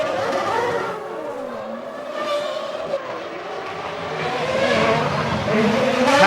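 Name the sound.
Formula 1 cars during a 1999 race pit stop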